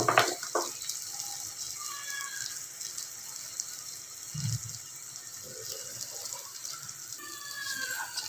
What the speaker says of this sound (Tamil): 1 டம்ளர் தண்ணி ஆட் பண்ணிக்கிறேன்